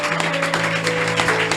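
A church congregation at a worship service breaks into sustained applause, a dense, steady patter of many hands clapping with a held tone ringing underneath.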